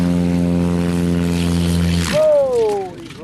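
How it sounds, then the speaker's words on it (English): A propeller plane takes off from a grass field, its landing gear retracting. A steady, loud engine drone with a strong pitch holds for about two seconds, then breaks off into a rising-and-falling whine that fades near the end. "This plane's landing gear retracted while taking off from a grass field."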